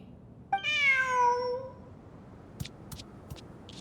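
A single drawn-out cat meow from the video game Genshin Impact rises clearly and fades over about a second, followed by a few faint, sharp clicks in a quiet background.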